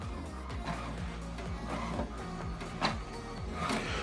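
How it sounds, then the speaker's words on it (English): An HP Deskjet all-in-one inkjet printer runs its alignment page, its carriage shuttling back and forth in a steady repeating mechanical rhythm of whirs and clicks, close and fairly loud, with no talking. "So what it's doing now, what is printing is alignment."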